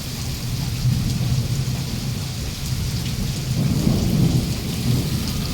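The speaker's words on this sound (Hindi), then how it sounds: "बाहर बहुत तेज़ बारिश हो रही थी, बिजली कड़क रही थी बहुत ही ज़्यादा ज़ोर से" Heavy rain pours steadily through a night-time thunderstorm, with deep thunder rumbling and swelling beneath the constant hiss of the downpour. No voices are heard.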